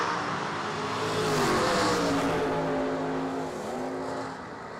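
A Camaro drag race car launches down the strip, its engine rising into a loud, sustained roar that swells and then eases slightly as it pulls away, heard without speech.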